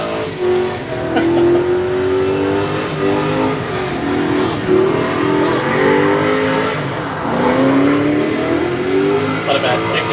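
A drift car skids around a race track during a gender reveal, its engine revving and rising over tire noise at a loud, sustained level, with voices talking over it.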